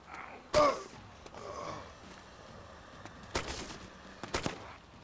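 Gunfire in the survival game DayZ: a sharp close shot near the start, then scattered quieter reports and a cluster of cracks toward the end, with a faint gasp-like voice in between.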